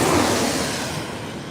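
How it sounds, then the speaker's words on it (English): An airliner passes overhead near San Diego airport, a steady broadband jet roar that is loudest at the start and slowly fades as it moves away, with no talk. "We got an incoming airplane overhead."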